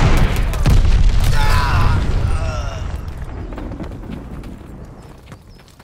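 A glide bomb explodes in Call of Duty, opening with a heavy low boom that rolls into a long, slowly fading rumble with debris-like crackle over it.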